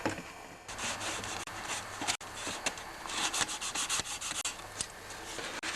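A rag rubs and scrubs inside the small holes of an older Briggs & Stratton 3.5 HP engine carburetor, making close, continuous scratchy friction with quick irregular strokes and occasional clicks, and no one speaking.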